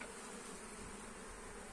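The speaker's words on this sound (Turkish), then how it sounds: "Arı var zaten." Honeybees buzzing steadily around a beehive in a late-season apiary, a dense, continuous hum close by with no break or voice over it.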